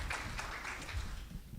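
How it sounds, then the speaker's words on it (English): An audience at a data summit session gives a brief burst of applause, a dense, even patter of hands from the room. "let's give her another round of applause because she's been standing here"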